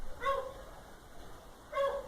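A dog barking behind a wall, two muffled barks about a second and a half apart, faint and distant over quiet background noise.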